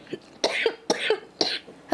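A woman coughs three times in a row, each a sharp, close, harsh burst followed by a short rasping tail.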